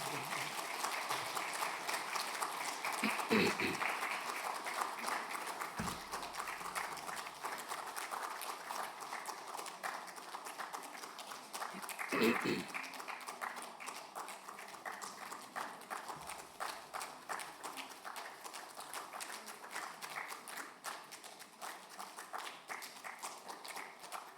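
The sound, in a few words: congregation applauding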